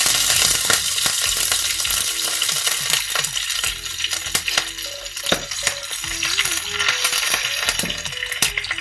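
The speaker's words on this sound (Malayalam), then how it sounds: "ഇതിലേക്ക് നമ്മൾ കറിവേപ്പില ഇട്ട് കൊടുക്കുക" Curry leaves hit hot oil while tempering inji curry for an Onam sadya, a close, continuous frying sizzle dotted with sharp crackles and pops and a few metallic clinks.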